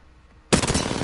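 Automatic gunfire from hip-firing in Apex Legends bursts in after a short quiet stretch, a loud, dense rapid stream of shots continuing to the end.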